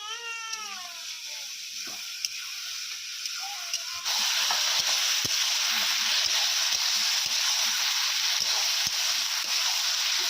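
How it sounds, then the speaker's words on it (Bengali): Fried potatoes, egg and vegetables sizzle in a wok while being stirred. A brief cry is heard first, then a loud, steady hiss with regular scraping taps from the stirring. "সব সবজি একসাথে দিয়ে কিছুক্ষণ নাড়াচাড়া করার পর ধুয়ে রাখা চাল দিয়ে দেবো।"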